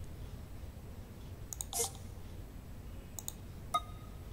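A few sharp clicks from a Steam Deck trackpad being pressed, heard close and fairly faint over a low background hum, with a brief burst near the middle and single clicks later.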